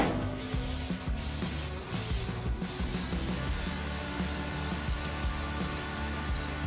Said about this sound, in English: You are going to spray everything on the inside.